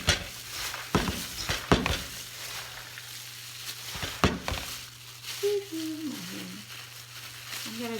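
Ginger beef jerky marinade being stirred and mixed in a bowl, giving a wet, sizzly churning texture with a few sharper knocks early on, fairly close, with a brief voice near the end.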